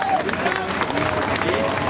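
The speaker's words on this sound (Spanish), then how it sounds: "También un fuerte aplauso." A crowd at a political protest rally in the Zócalo applauds, a steady dense wash of clapping with crowd voices mixed in, heard continuously and fairly loud.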